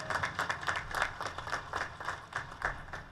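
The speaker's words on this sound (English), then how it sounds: "Please give them a round of applause." Scattered clapping from a small crowd at a USA250 opening ceremony, a steady patter of hands that continues throughout without cheering or voices.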